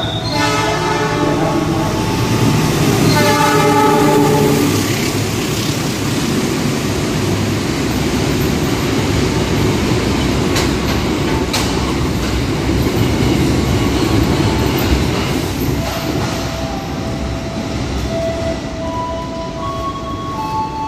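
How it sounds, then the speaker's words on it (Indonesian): A passenger train, the Logawa or Mataram service in Indonesia, rushes past at speed with a loud sustained horn blast early on, followed by a continuous roaring rumble of wheels and carriages close by. "Wah, kapan lagi lihat kereta LS Purwokerto dengan kecepatan segitu ya."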